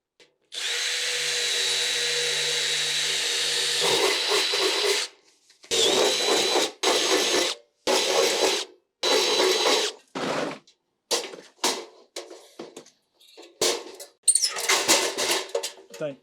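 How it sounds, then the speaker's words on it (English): A power drill boring holes in plastic trunking during a domestic consumer unit install, starting with one long steady run of whirring, then a string of short separate bursts at close range, loud with a few gaps between. "I didn't drill any holes in the trunkins that I can mount it to the wall, so I'm going to quickly do that"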